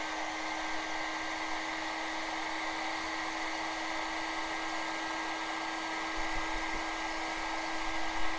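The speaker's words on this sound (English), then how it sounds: "We get the heat shrink gun on," A heat shrink gun blowing hot air while heat-shrinking battery connections for a 1/6 scale Armortek Hetzer Jagdpanzer 38 model, a steady continuous whine and rushing airflow, even and moderately loud throughout, alone.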